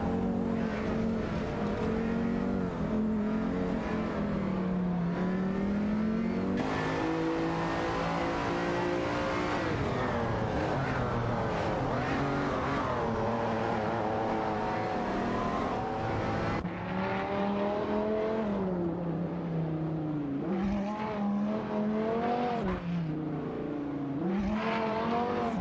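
Ferrari F355 Berlinetta F1 and Dodge Viper GTS ECR 99 race cars battle in a video game, their engines whining loudly and continuously, pitch climbing and dropping through gear changes and revs with no pause.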